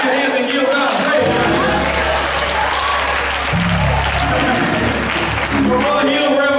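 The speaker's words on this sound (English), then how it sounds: "Somebody clap your hands and give God praise." Church congregation claps hands in praise, a steady burst of applause mixed with voices and organ-like tones, loud and sustained after a quiet start.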